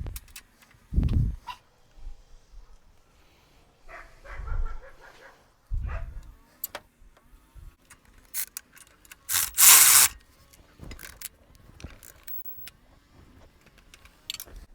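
A wrench turns exhaust flange bolts on a Toyota Tercel, producing scattered metallic clicks, scrapes and ratcheting knocks with short thuds at intervals, close and fairly quiet, with brief pauses between efforts.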